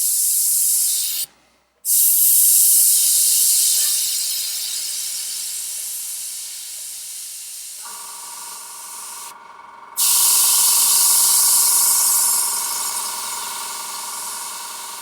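An Iwata HP-CS Eclipse airbrush spraying paint, a steady loud airy hiss that cuts out twice for a moment and resumes, with a faint tonal hum from the compressor joining partway through.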